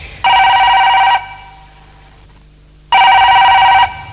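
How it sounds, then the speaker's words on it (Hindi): A telephone rings in two long, loud electronic bursts separated by a quiet gap of nearly two seconds, with no talking over it. "फोन लग रहा है"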